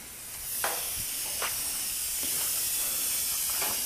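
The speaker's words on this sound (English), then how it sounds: "So that's my burner." A waste oil burner runs with a steady, loud broadband hiss like rushing steam, a few faint clicks and ticks over the constant roar, close and without speech.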